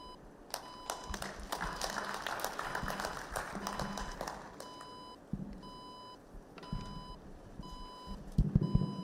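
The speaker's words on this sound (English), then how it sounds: "Another round of applause for Professor." An audience applauds a speaker at a water and sanitation conference in Kenya, a dense patter of clapping in a hall that swells then thins, with repeated electronic beeps ringing over it throughout.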